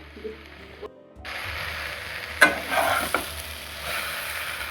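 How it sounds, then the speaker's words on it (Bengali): Raw mango and sugar for morabba stirred in a pan with no water, heard as a sudden start of sizzling followed by close scraping, clattering utensil strokes over a continuous hiss. "এইভাবে নাড়তে থাকবো, এতে তো কোনো জল অ্যাড করবো না।"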